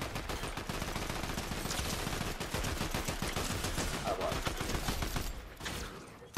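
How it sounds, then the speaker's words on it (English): Fortnite gunfire crackles in rapid, dense automatic bursts, steady and fairly close, with a brief lull near the end, while a voice talks faintly underneath. "Someone shooting at you, no?"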